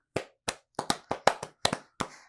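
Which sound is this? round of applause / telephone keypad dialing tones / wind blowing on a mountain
round of applause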